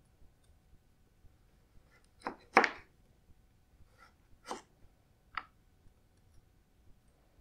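Knife cutting thin slices on a cutting board: a handful of sharp, separate taps, a quick pair near the middle, then two more spaced strokes, close and fairly quiet against a silent room.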